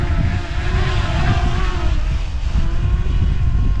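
A small Potensic Atom drone, under 250 grams, flies forward outdoors with a steady, loud buzzing propeller whine close by and no talking.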